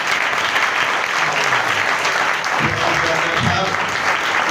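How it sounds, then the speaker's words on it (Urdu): Audience applause at a sermon during a prayer festival, a dense sustained clapping from a crowd, loud and steady throughout, with a voice briefly audible underneath. "تالی بج سکتی ہے اس کے لیے؟"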